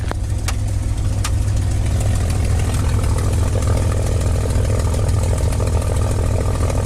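A P-51 Mustang aircraft engine idles steadily after start-up, a loud, constant low rumble with no breaks, close by and without any talk over it.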